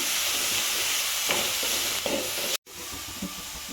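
Capsicum sautéing in a pan gives a steady close sizzle with a few stirring scrapes, broken briefly by a sharp cut near the end before the frying hiss resumes.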